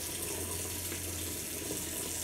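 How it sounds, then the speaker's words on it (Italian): Water running steadily from a tap to warm shaving water, a constant even hiss with a low hum beneath it. "Scusate che scaldo l'acqua."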